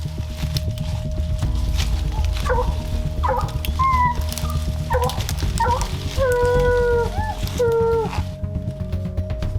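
Hunting hounds bay and yelp excitedly at a treed cat, several dogs calling in bursts over steady rumbling background noise outdoors, fairly close.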